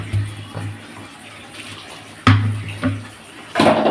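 Rinse water from a mixer jar is poured into a cooking pan, a close splashing pour in a few short bursts with a louder sizzle-like rush near the end.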